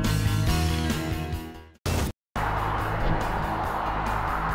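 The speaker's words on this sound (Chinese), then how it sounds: "用上了技术更新的 M55 发动机，但是这一次 M2 有了七速双离合" A BMW M2 sports car with an M55 engine and seven-speed dual-clutch gearbox drives hard. Its loud, tonal engine note rises and falls, is broken by abrupt cuts, then returns as a rougher roar.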